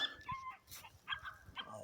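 Dogs barking and yipping in short irregular bursts a short distance away outdoors, faint and fairly quiet, with no talk over them.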